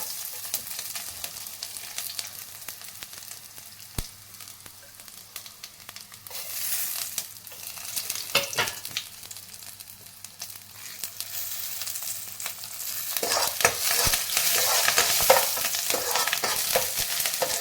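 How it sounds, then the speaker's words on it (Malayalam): Shallots, green chilies and curry leaves fry gently over a low flame, a soft steady sizzle broken by scraping stirs and a few brighter crackling bursts toward the end, with no one speaking. "ചെറിയ ഉള്ളിയും പച്ചമുളകും കറിവേപ്പിലയും എല്ലാം കൂടി ലോ ഫ്ലെയിമിൽ വെച്ച് വേണം എല്ലാം കടുക് ഇറങ്ങാൻ"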